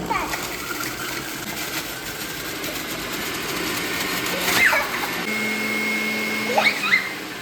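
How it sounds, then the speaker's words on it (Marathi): An electric juice maker runs with a steady whirring motor hum and some splashy, churning noises, while voices, including a child's, talk over it. "मस्त आहे ज्यूस मेकर आम्ही इकडेच घेतलं होतं पण छान निघाला"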